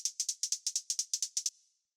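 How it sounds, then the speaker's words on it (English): Synthesized hi-hat from a deep minimal house track, ticking in a quick even pattern of about a dozen crisp, bright hits that then stop with a short decaying tail, heard alone. "the next sound that we have here is this first hi-hat, which sounds like this"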